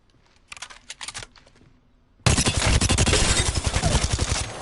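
Rapid automatic bursts from a Volt SMG in Apex Legends, a few scattered shots and clicks first, then a loud sustained stream of close gunfire with a fast, even rhythm.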